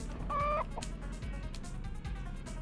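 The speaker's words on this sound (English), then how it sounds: "The chicken's circling me." A chicken gives one short squawking cluck in the South Park Rally PlayStation game, brief and clear over a steady engine hum with faint rhythmic in-game thumps.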